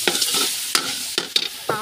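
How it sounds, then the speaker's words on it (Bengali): Noodles frying in a hot pan while being stirred, with close, loud sizzling broken by repeated scraping stirs at an uneven rhythm. "নুডলসটা দিয়েছি, এখন আমি নুডলসটা ফ্রাই করবো।"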